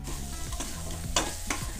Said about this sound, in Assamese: আমি ভাজি লোৱা মাংস আৰু আলুখিনিও দি দিম এইখিনিও ভালকৈ মিক্স কৰি দিম